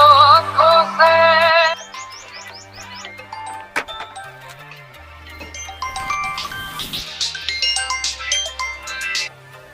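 A phone ringtone plays loudly and close, a melodic electronic tune with repeating rising notes that shifts pattern partway through, with no talk over it.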